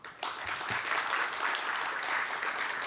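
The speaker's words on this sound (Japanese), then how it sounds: "会場の皆様、改めましてもう一度大きな拍手をお送りください。" A conference audience at a symposium on preparing for new infectious disease crises applauds steadily after a keynote lecture, a dense, even wash of many hands clapping for the whole stretch.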